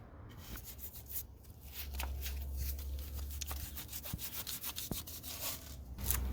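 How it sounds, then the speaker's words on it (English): Scrubbing grime off an RB30 engine block from a VL Commodore, a quiet, steady rubbing and brushing with scattered scraping strokes and no speech. "Just trying to clean all the gunk off this thing as much as I can."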